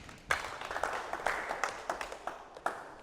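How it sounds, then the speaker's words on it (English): A small group claps for the younger players at a youth basketball coaching session, a thin, scattered applause of uneven hand claps lasting a few seconds in an indoor space. "Give the younger guys a clap"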